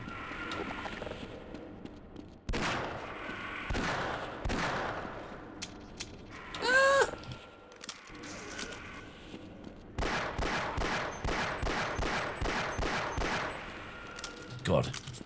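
Gunfire from Half-Life 1, with a basic pistol among the weapons, comes in scattered single shots, then a fast run of evenly spaced rounds near the end, mixed with other game noises and a brief tonal effect.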